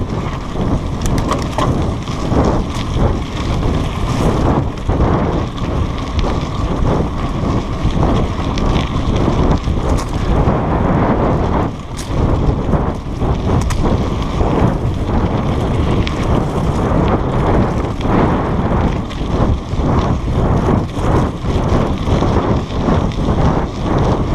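Strong wind roars across a hiking trail overgrown with brush after recent rain, a loud, continuous buffeting rush that fills the whole stretch with no voices.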